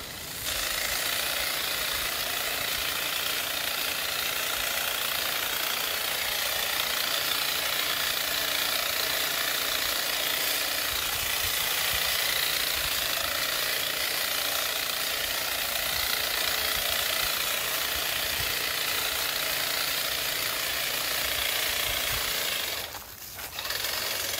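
A Milwaukee M18 FUEL QUIK-LOK articulating hedge trimmer cuts back tall grasses along a trail. Its steady buzzing motor runs loud and close without a break, with a short dip near the end.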